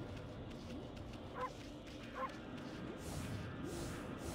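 In the Okami video game, a wolf barks as a game sound. Two short, faint barks come about a second apart over a steady bed of game ambience.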